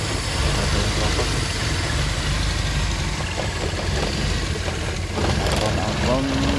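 A 1990 Honda Civic Grand Nouva SH3 engine idles with a steady, low, close rumble while a person talks over it.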